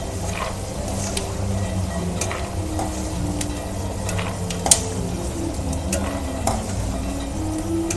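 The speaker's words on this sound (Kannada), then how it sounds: "ಈಗ ಕಡಲೆ ಬೀಜ ಫ್ರೈ ಆಗಿದೆ ನೋಡಿ" Peanuts frying golden in a pan, a dense steady sizzle punctuated by repeated spatula scrapes and light metallic taps, close and fairly loud, no voices.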